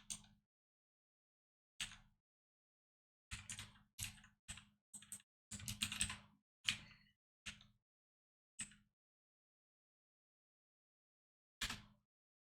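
Someone types on a computer keyboard while writing code, sparse bursts of close, crisp key clicks separated by pauses, with one denser flurry in the middle and nothing else audible.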